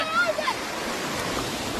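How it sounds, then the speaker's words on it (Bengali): The Ganga river rushes past an eroding bank with a broad, steady roar of moving water, loud and close, with a few faint bird chirps early on. "পানির শব্দ কি"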